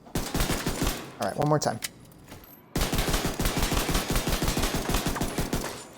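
Rapid gunfire in The Division 2 video game, two long bursts of evenly spaced loud shots separated by a short pause with a reload and brief speech.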